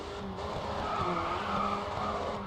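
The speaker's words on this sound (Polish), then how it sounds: "O, drift mi wyszedł w końcu, fajnie." A car drifting in the racing game Grid 2, with a steady, loud tire squeal over a droning engine through a continuous skid.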